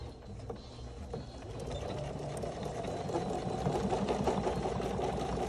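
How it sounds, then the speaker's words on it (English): Sewing machine stitching a bag seam at about a 3/8 inch seam allowance, a continuous close mechanical whirring that grows a little louder and steadier as the stitching runs. "And I am just going to sew this with about a 3/8 inch"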